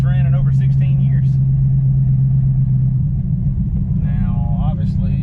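A 1955 Chevy engine running for the first time in 16 years, a loud, steady, low rumble throughout with voices talking over it.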